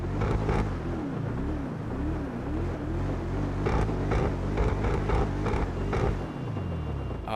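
A Paragon R sports car engine in GTA 5 Online revs up and down repeatedly, rising and falling whine over a constant rumbling drone, fairly loud and continuous.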